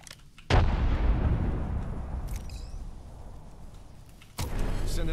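Frag grenade explosion in Apex Legends, a loud close boom with a long rumbling decay over several seconds, followed by another sharp blast near the end.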